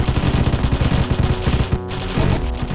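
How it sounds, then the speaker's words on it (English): Rapid bursts of gunfire from plague bullets in the video game Deathstate, loud and close, firing in clustered volleys with a brief pause near the middle before the shooting resumes. "So now I fire in bursts and I fire plague bullets"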